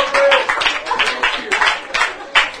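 Worshippers at a deliverance prayer service clap for Jesus in loud, close, rhythmic bursts of many hands, keeping a steady beat.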